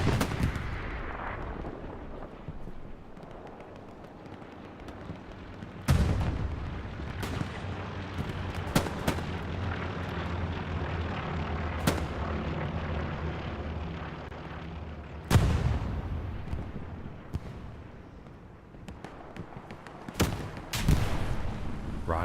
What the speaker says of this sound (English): Some nice rockets.